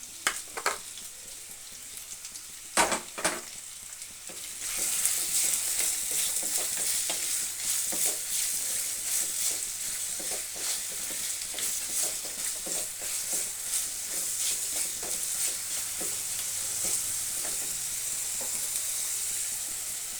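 Onion, garlic, cashews, green chillies, ginger, cardamom, cinnamon and cloves roast in a pan for a shahi chicken gravy, giving a loud, steady sizzle with scattered stirring scrapes. The sizzle swells after a few quieter opening seconds.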